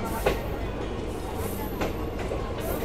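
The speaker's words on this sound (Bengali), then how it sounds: "তো আমাদের ট্রেন কিন্তু এবার বোলপুর ছেড়ে বেরিয়ে চলেছে।" The 13187 Maa Tara Express pulls out of Bolpur station in West Bengal, heard from on board as a loud, steady rumble with rhythmic wheel clatter throughout.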